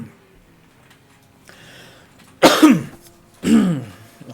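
Two loud, close coughs about a second apart follow a quiet stretch with only a faint background murmur.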